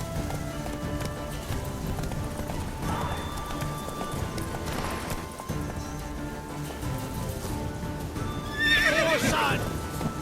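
Horse hooves clip-clop at a gallop with a sharp neigh near the end, set amid music and ambient game sound in The Witcher 3: Wild Hunt, played on PS4.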